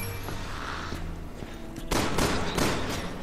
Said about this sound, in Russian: Ну, слышу, автомат пошел.